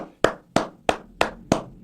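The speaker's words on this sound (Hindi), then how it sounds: "ताली बजाओ एक बारी बांग्लादेश के लिए" Six sharp, evenly spaced hand claps ring out loud and close, about one every third of a second, with no talking over them.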